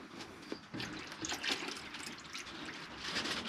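Water poured into a rabbit's water container on a homestead, a quiet close trickle and splash that runs steadily after a brief start.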